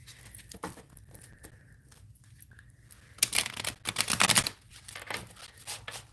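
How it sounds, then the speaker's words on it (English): A deck of cards is shuffled close to the microphone, with quiet riffles at first followed by a louder burst of fast, papery flutters and snaps, then softer shuffling afterward. "Let's start shuffling."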